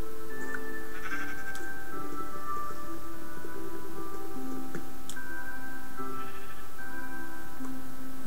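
Sheep bleating in Minecraft, several wavering bleats overlapping and repeating across the clip, fairly close and clear, with faint ticking underneath and no talk.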